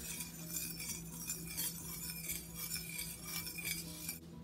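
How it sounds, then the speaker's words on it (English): Orange juice for mimosas stirred with a spoon, a quick run of faint metallic clinks and swirls against a glass container, quiet and close, ending abruptly. "Give this a quick stir."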